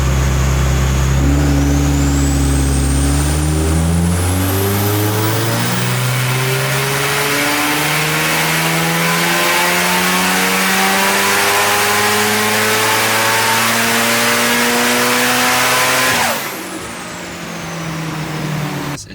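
A built Nissan S15 engine revs hard on a dyno, its loud, steady mechanical note climbing for about fifteen seconds before cutting abruptly and settling to a lower rumble at the end.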